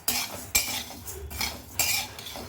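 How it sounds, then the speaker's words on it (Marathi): Whole spices dry-roasting in a pan over medium heat without oil, stirred continuously, give a run of close metal scrapes and rattles that repeat in several bursts. "मिडियम गॅसवर कंटिन्यू हलवत अशा पद्धतीनेच मसाले भाजायचे"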